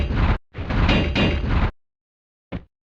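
A heavy stone door slides shut in Tomb Raider's Tomb of Tihocan: a short grinding burst, then a longer rumbling scrape, followed by silence and a brief final thud, loud and close.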